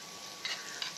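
Butter and bacon fat sizzle in a hot pan for French toast, a steady close hiss with two brief louder crackling bursts and no talk.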